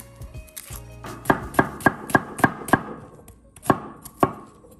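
An onion is chopped with a knife on a board, a steady run of about eight crisp, close blade strikes followed by a pause and two more chops.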